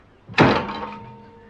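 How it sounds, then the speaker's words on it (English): A door swings shut with a single loud, close thud that rings briefly before fading, in a quiet interior of a period murder-mystery drama. "The door won't stay open."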